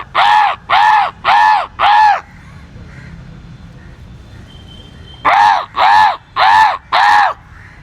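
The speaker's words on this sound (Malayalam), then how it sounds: "ഈ പ്രദേശത്തുള്ള കാക്കകളൊക്കെ വന്നിട്ടുണ്ട്" A flock of crows caws loudly and close by in two bursts of four harsh, evenly spaced calls each, separated by a few seconds of quiet outdoor background.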